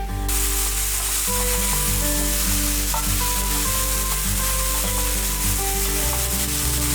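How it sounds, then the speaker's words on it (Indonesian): Champignon mushrooms sauté in a frying pan, giving a loud, continuous close sizzle with faint stirring and scraping throughout, no talking. "jamur yang berada dalam panci penggorengan tetap ditumis sampai terlihat tekstur dari jamur Champignon lemas dan padat"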